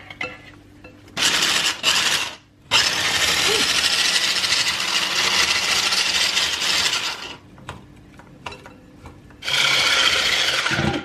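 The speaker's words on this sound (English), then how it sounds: "we've now been mixing this for about 15 minutes, and it feels it as well, like the whisk is actually very hot right now" An electric hand whisk beats evaporated milk filling for a gypsy tart, a loud steady whirring buzz in long bursts broken by short pauses and stop-start clatter, close to the ear with no talk.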